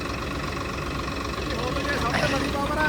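A Swaraj tractor engine runs at a steady idle, a continuous low diesel rumble with a mechanical hum that stays even and fairly close throughout, with faint voices around it.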